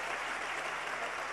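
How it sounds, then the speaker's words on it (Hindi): Brief, faint wash of applause from a crowd gathered at a religious discourse event in Sehore, steady and diffuse with no individual claps standing out. "तालियां बजाकर उनका अभिनंदन करें।"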